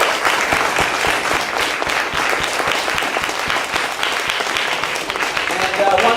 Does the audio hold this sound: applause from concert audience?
yes